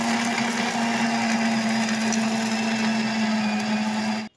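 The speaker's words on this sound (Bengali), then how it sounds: "5 চামচ চিনি কিন্তু দিলাম, দিয়ে মিক্সিতে গুঁড়ো করে নেব।" A kitchen mixer grinder pulverizing sugar and milk powder, a loud steady motor whine with a grinding rattle that runs unbroken for several seconds before cutting off abruptly.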